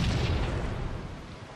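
A grenade blast in Halo 2 on the Warlock map, a loud, close boom that dies away over about a second and a half with no voices.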